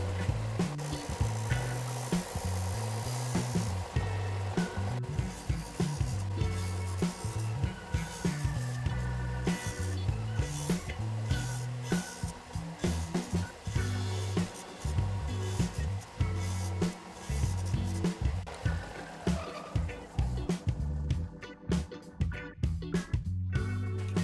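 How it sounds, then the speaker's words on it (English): A latch for a DIY UV chamber is ground with a tool to cut small slots, producing loud, continuous rough grinding in repeated bursts and strokes that keep up throughout, with a few sharp breaks near the end. "Here I'm marking where I'm going to actually grind back these little slots to create ramps for the latch to ride up on"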